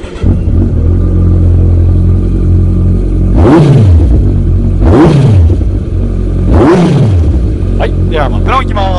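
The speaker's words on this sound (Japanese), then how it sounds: "ではエンジン吹き上がりいきたいと思います。" A 1400cc Kawasaki Ninja ZX-14R sits idling loud and close, then is blipped three times, each rev rising sharply and falling back to idle.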